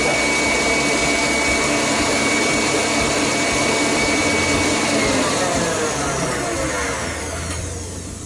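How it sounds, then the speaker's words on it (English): An electric stand mixer whisks Italian meringue buttercream at high speed, a loud, steady whirring drone that holds evenly and eases slightly toward the end, with no talk over it. "now it's just a question of letting that whisk until it homogenises and gets thicker"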